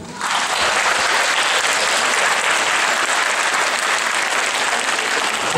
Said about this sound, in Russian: громкими аплодисментами.